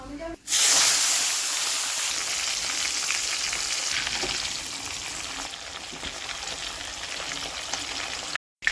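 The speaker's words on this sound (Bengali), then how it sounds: "ট্যাংরা মাছগুলো ভাজা হয়ে গেছে, আমি তুলে নেবো এবার।" Tengra fish fry in hot oil with a loud, dense sizzle that bursts in sharply at the start and stays steady and close, ending abruptly.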